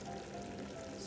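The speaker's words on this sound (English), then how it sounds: "And now I will add the dark soy sauce." Dark soy sauce pours into a cooking pan of chicken feet, a short liquid pour with soft sizzling, close and steady for about a second.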